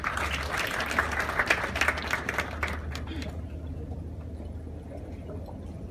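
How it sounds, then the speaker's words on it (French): An audience at a banking conference panel applauds in a moderate, steady round that fades out after about three seconds, leaving a low steady hum with faint voices underneath. "veuillez chaleureusement recevoir Monsieur Guy Coisan, directeur général de Versus Bank, sous vos chaleureux applaudissements"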